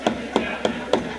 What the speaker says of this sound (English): And this is djembe drum.